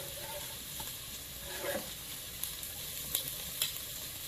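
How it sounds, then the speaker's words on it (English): Onions sizzling in a hot pan, a steady frying hiss throughout with a few soft stirring scrapes and small clicks near the end. "I'm going to put a piece of onion in there and see if I hear it sizzle."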